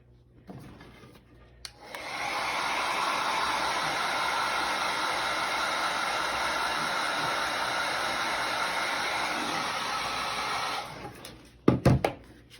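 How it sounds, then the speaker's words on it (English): A hair dryer switches on and blows with a loud, steady whooshing roar for about nine seconds, then cuts off, followed by a couple of clunks. "I'm not going to talk while I use my blow dryer"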